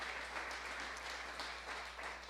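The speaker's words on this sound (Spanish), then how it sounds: "Y dé un fuerte aplauso al Señor" A church congregation applauds together in steady, dense clapping that sounds fairly distant and soft and lasts for the whole short stretch.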